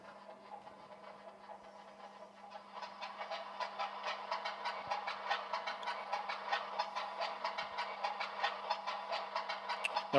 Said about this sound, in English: So first of all, we're going to simulate a cold start.